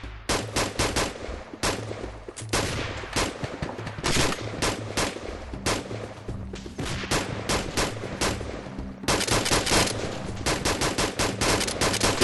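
Incoming automatic gunfire with green tracer rounds in a military shooter, loud rapid bursts of machine-gun fire with brief gaps, continuing in heavy volleys from start to finish.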